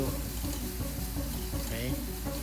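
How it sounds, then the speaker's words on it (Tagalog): Red and green bell peppers being stirred in a cooking pan for Bicol Express, a soft steady sizzle with light scraping strokes, faint voice in the background. "Tapos, haluin muna natin yan."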